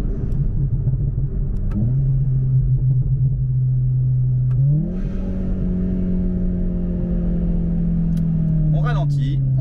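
Volkswagen Golf 7 GTI TCR with a stage 2 tune and upgraded exhaust, heard from inside as the engine drones steadily, then rises in pitch through a gear, ending with crackling pops and bangs on lift-off; loud throughout.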